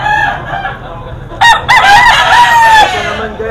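A bulik rooster for sale at a roadside poultry market crows once, loud and close, a drawn-out call over faint background chatter and market noise.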